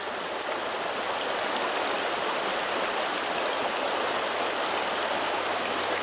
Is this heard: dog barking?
no